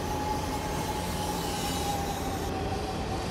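Train wagons rolling along the rails in Train Simulator 2015, a Dutch NS double-deck train between Amersfoort and Utrecht, with a steady loud rumble, a faint sustained wheel squeal and continuous track noise.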